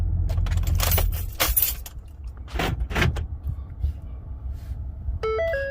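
A Ford F-150 pickup is switched off while keys jangle loudly in a few bright clattering bursts close by, followed by quieter rustling and a short electronic chime at the end.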